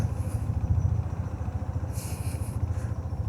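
A motorcycle engine putters along a fog-covered road, a low rhythmic chugging held steady for a few seconds at moderate distance, with a brief higher hiss partway through and no voices.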